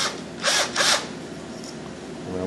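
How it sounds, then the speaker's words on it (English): A power drill bores a hole into a wooden vulture carving, two quick whirring bursts in close succession, loud and near, then a quieter hum. "I'm going to drill it at a slight angle."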